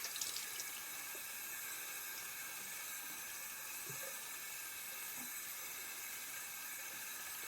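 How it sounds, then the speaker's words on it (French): Hot tap water runs steadily into a sink while a face is rinsed, a constant soft hiss with faint splashes, fairly quiet and close, with no talking. "pour rincer j'utilise de l'eau chaude"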